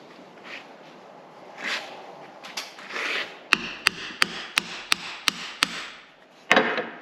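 A hammer strikes metal on a 1993 Peterbilt cabover truck. After some rubbing and shuffling, about seven crisp, evenly spaced blows ring out, then one last louder hit, all close and clear.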